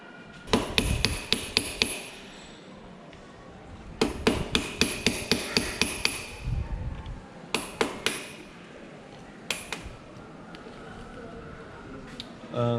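Hammer blows on a screwdriver, used to loosen an adjusting nut on a 2021 Royal Enfield Himalayan BS6 motorcycle, ring out as sharp metallic taps in quick clusters, close and moderately loud with pauses between.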